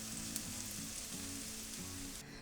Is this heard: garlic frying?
yes